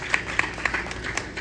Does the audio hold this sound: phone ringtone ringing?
no